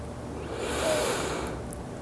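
One slow, deep breath during a yoga session, a soft airy inhale and exhale heard close and quiet with no talking.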